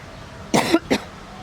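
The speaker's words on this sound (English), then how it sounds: "oh my gosh, this cough" Two short, harsh coughs in quick succession, close up, with near silence around them.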